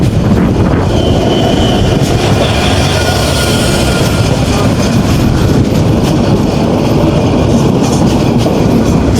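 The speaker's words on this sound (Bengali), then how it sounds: "সিল্ক সিটি এক্সপ্রেস যেটি রাজশাহী থেকে ছেড়ে এসে ঢাকা কমলাপুর রেলওয়ে স্টেশনের উদ্দেশ্যে ছুটে চলেছে" The Silk City Express from Rajshahi to Dhaka thunders past close by, a loud continuous roar with rhythmic wheel clatter and occasional metallic squeals, no voices.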